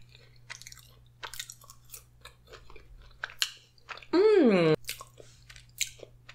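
Someone bites and chews parmesan cheese fries dipped in ranch, with close, soft crunching and wet mouth sounds throughout, a steady low hum underneath and a brief loud vocal burst partway through.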